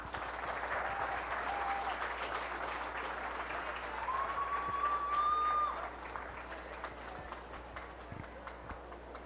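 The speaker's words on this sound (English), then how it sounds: "Please give them all one round of applause" Sustained applause from a county fair audience at a farm bureau ambassador contest, steady broad clapping that swells briefly before easing, with faint whistles or tones over it and no talk.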